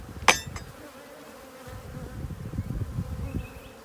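Honeybees buzz at an open hive during an inspection, a soft continuous hum rising slightly toward the end, with one sharp click or tap near the start.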